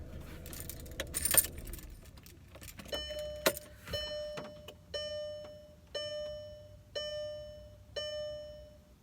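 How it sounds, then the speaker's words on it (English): Car keys jangle and rattle near a parked car, followed by a run of evenly spaced tonal chimes from the car, like a dashboard warning chime repeating about once a second as the engine is switched off and restarted. "had to turn my car off and then turn it back on so I can charge my phone"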